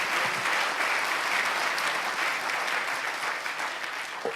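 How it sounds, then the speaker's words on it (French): Steady applause from an audience at an awards evening, honouring sailor Thomas Coville, dense and sustained throughout with no gaps, filling a hall at even volume. "je crois qu'on peut applaudir Thomas Coville"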